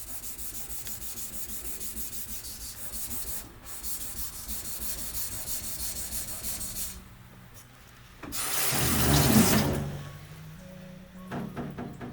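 A knife blade is rubbed on a 3000 grit whetstone toward a kasumi finish, rhythmic close scraping strokes with a brief pause and a louder gritty burst near the end.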